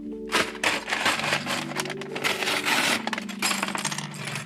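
Small plastic LEGO pieces from a console building set scatter and tumble across a surface in a long burst of rapid, sharp clicks and clatters, close and fairly loud.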